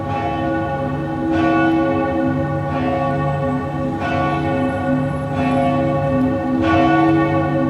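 A church bell tolls as a stage effect in a performance of Macbeth, striking about every 1.3 seconds in a slow, steady knell, loud and resonant with long ringing overtones that carry between strikes.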